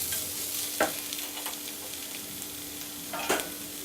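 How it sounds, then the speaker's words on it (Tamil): Masala with chili powder and turmeric sizzles steadily in a pan while a spoon scrapes and stirs, with two sharper stirring knocks standing out over the continuous frying; nobody speaks. "மிளகாய்த்தூள், மஞ்சத்தூள் இதெல்லாம் சேர்ந்து நல்லபடியாக குக் ஆகட்டும்."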